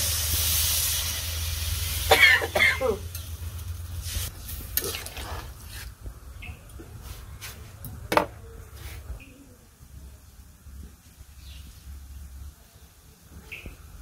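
A pot of curry coming to a boil, with steady steamy hissing and bubbling close by. Faint clicks and drips sound from time to time, and there is a brief louder clatter early on.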